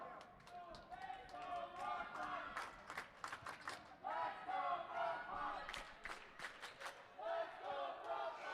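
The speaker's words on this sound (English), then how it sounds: "The Brookline crowd getting into it out of the timeout." Brookline home crowd at a boys' volleyball match cheering coming out of a timeout, rising and falling bursts of shouts, claps and chants in a gym, fairly distant and moderately loud.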